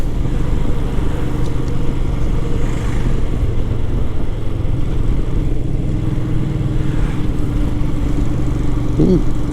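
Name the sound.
Royal Enfield Himalayan motorcycle riding on mountain road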